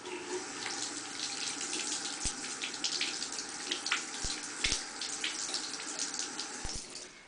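Water runs steadily from a tap with splashing and a few sharp knocks against the sink, as a makeup brush is rinsed under the stream.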